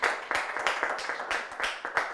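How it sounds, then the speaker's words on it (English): A few people clapping for a counselor at a school holiday event, sparse rhythmic claps arriving in uneven bursts about three times per second, fairly quiet and close. "Round of applause for our counselor."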